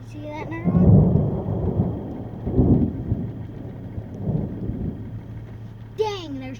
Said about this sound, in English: there's 2 lightning strikes in a row. 3 thunders.